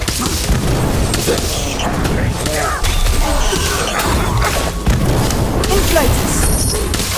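Incendio fire spells cast in the Harry Potter: Magic Awakened game, loud bursting booms and crashes with whooshing effects over busy game noise, while a voice speaks throughout.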